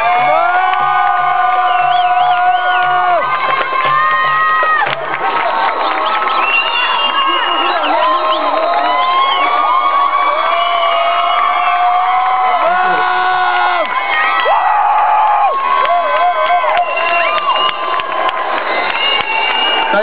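A large protest crowd cheers, shouts and whoops in welcome, a loud, continuous roar of many voices lasting throughout with high yells standing out.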